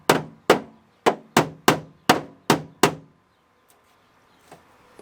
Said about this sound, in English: we hit all these up with hammers